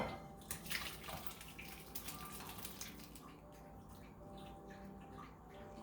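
Thick pureed asparagus and cauliflower soup pours and splashes softly into a bowl, a continuous wet stream that is quiet and close, thinning out toward the end.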